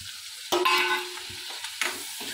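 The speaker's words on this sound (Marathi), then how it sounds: "टोमॅटो चिरून घेतलेला आहे, टोमॅटो घालत आहे." Chopped tomatoes hit a hot pan with a sudden loud sizzle, then settle into a steady frying hiss with a second burst of sizzle as more goes in.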